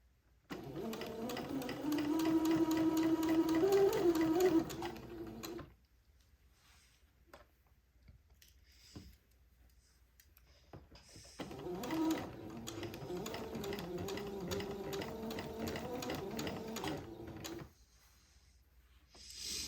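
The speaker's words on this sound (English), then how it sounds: "I've got that sewn on with a straight stitch all the way around the neck hole opening" A sewing machine straight-stitches around the neck opening of a day gown, running in two steady sustained bursts separated by a quiet pause with faint handling noises.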